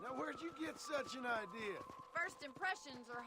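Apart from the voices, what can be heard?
No everyday noise stands out behind the speech.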